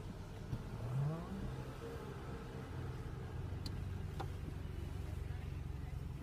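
A car engine starts with a short rising surge, then settles into a steady idle that hums on underneath. Voices talk quietly nearby.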